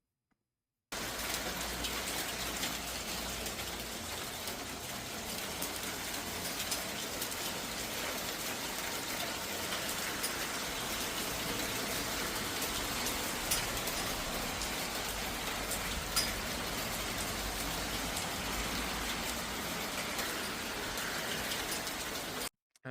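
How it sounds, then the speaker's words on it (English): Hail falls steadily in Granada, a dense continuous patter and hiss of ice striking surfaces, loud and unbroken throughout with no voices. "Here's more hail going on in Granada."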